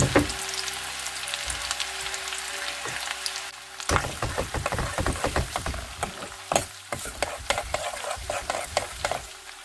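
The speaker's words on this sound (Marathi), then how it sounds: "आता आपण त्यात बारीक चिरलेला कांदा घालूया आणि तो सुद्धा छान असा परतून घ्यायचा आहे." Finely chopped onion frying with chilli pieces in a tempering pan, sizzling steadily with repeated sharp scraping and stirring strokes from a spoon, close and alone without talk.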